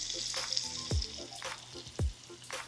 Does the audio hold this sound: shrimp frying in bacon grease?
yes